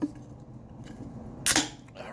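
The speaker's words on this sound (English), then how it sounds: "I'm gonna have to crack my beer." A beer can snaps open with a sharp crack and brief fizzy hiss, close and fairly quiet, over faint background murmur.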